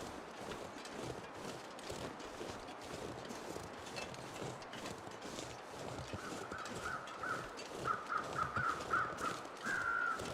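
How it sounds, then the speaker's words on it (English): Crows cawing in the snowy wilderness of the video game The Long Dark, a series of faint, distant caws that grow in the second half over a soft windy background with a muffled rhythmic crunch. "Those must be the birds for Max's last stand."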